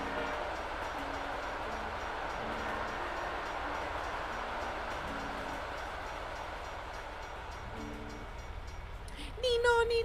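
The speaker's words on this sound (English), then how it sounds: "I like the trains here. This is very cool." Trains roll past in American Truck Simulator with a steady broadband rumble, low horn-like tones repeating, and a sharper burst of noise near the end.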